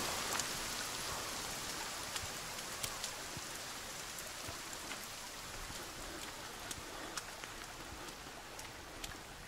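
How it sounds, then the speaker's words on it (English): Heavy rain in the survival video game The Forest makes a continuous, quiet wash of noise, with scattered crisp droplet ticks throughout and no talk. "It's raining hard."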